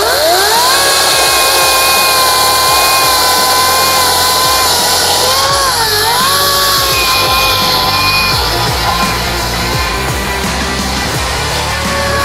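A Ryobi 40V brushless chainsaw cuts through wood with a loud, continuous whining drone that shifts slightly in pitch as the chain bites, heard close and alone throughout.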